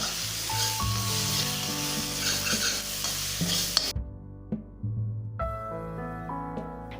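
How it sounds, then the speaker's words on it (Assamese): Yogurt and spices stirred in a sizzling pan for a vegetarian paneer curry, with a spoon scraping in steady strokes over continuous frying hiss, sharp scrapes near the start and end, and a soft music bed throughout. "এইখিনি এতিয়া ভালকৈ লৰাই থাকিম যাতে দৈটো ফাটি নাযায়"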